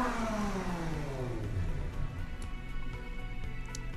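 A car engine in the racing sim Automation revs loudly and steadily, pitch sweeping down then holding a throaty mid-range drone, close and continuous with no talk.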